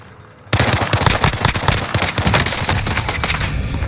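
Sudden rapid bursts of automatic gunfire in the video game Call of Duty: Modern Warfare erupt after a brief quiet start, dense and loud, with overlapping shots continuing to the end.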